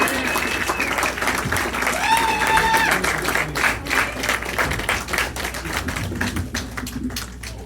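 Audience applause fills the room, dense and steady with a few whistles rising over it, clapping continuing throughout without anyone speaking, at a live music show in Kansas City, Missouri.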